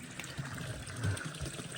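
Water runs from a pipe fed by a hydrant into a trough for heifers on a farm in bitter winter cold, a close gushing and splashing stream with uneven surges, no voices.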